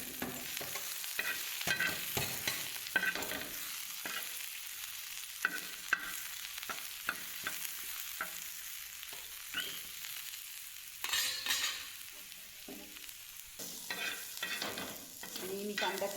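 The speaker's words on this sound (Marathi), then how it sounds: "मी कच्चा कांदा आहे ना असा तव्यावर तेलामध्ये टाकून घेतला आहे. आता तो मी छान चॉकलेटी होईपर्यंत छान भाजून घेते." Raw onion frying in oil on an iron griddle for a spicy mutton rassa, with a soft continuous sizzle broken by repeated close scraping and stirring strokes of a spatula, with no talk.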